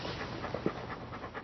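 A dog in a video game pants in a quick, soft, close rhythm for a brief moment, with nothing else around it.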